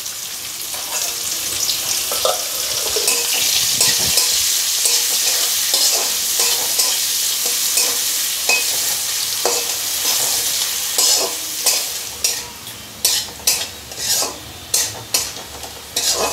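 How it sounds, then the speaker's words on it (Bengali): Chopped medium onion frying with spices in a pan, a constant close sizzle broken by repeated scraping stirs that turn into sharp rhythmic strokes toward the end, with no voices. "এবার এর মধ্যে আমি পেঁয়াজ কুচানো দিয়ে দিচ্ছি।"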